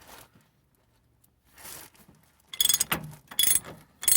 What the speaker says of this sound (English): So now we're going to take this big hairy nut off.